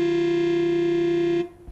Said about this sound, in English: it's actually producing saxophone notes